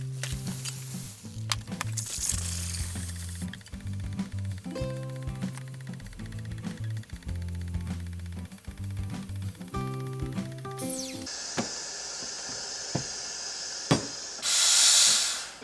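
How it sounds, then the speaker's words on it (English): An espresso machine's steam wand steams Oatly Barista oat milk. After a long stretch of steady background music, a continuous hiss rises and ends in a louder, rushing burst of steam. "So I'm going to start steam some milk."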